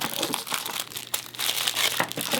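Plastic packaging crinkles and crumples close up as Honl photo gear is unpacked, a busy run of irregular rustles and sharp crackles with no talking.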